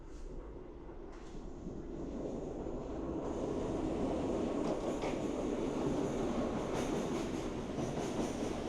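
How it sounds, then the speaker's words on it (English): Ordinary diesel passenger train number 372 from Prachinburi pulling into Makkasan Station on Bangkok's Eastern Line, a steady rumbling roar of wheels and engine with occasional metallic squeals, close and sustained. "An ordinary number 372 train from Brajimburi is just arriving."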